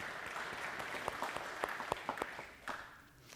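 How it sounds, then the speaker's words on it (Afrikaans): A church congregation applauding, a steady patter of many hands with a few sharper claps standing out, moderately faint, fading at the end. "Kom ons gee maar vir haar 'n hande klap."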